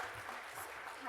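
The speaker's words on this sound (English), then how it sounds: "Another round of applause" A keynote audience applauds steadily at a tech conference's media track on day two, a dense, fairly soft wash of claps sustained throughout with no voices rising above it.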